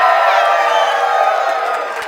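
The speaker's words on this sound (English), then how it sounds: "I want you guys to scream at the top of your lungs." Wedding guests at a hillside country club in Rhode Island cheering and screaming together, a dense sustained roar of whoops and yells that holds steady and then slowly fades.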